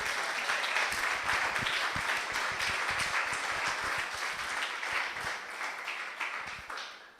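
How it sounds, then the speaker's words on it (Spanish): Sustained applause from a crowd at a December 2023 gathering in solidarity with Palestine, dense clapping filling the space for several seconds and gradually thinning toward the end. "este merece un aplauso"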